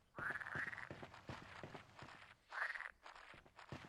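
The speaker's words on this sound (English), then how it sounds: "Guess I can snap a picture of the frogs." Frogs croaking in the video game Beyond Good & Evil HD, a rapid series of raspy croaks in repeated bursts with quick clicky pulses between them, close and fairly clear with no talking.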